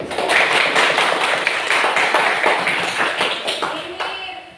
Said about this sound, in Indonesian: Tepuk tangan dulu untuk yang sudah menjawab yang baik.